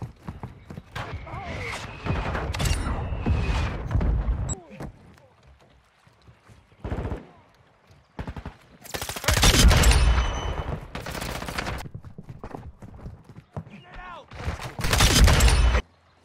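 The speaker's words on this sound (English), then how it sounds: "Requested fire mission. Target mark. Solid copy. Mortar strike on the way." Mortar strike explosions from Call of Duty: Modern Warfare II hit in several loud, broad bursts, a short cluster early and then heavy blasts later. Crackling battlefield noise fills the gaps between them.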